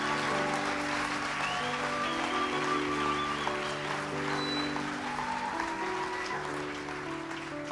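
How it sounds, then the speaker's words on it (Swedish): Congregation applauding during a Spanish-language church service, a steady sustained wash of clapping from many hands throughout, moderately loud with a faint hum of organ or keyboard tones underneath. "Vamos a dar otro fuerte aplauso al Señor."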